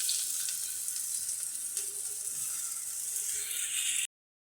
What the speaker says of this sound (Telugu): ఆయిల్ వేడైంది కదా, ఉల్లిపాయలు పచ్చిమిరపకాయలు వేసుకుందాం.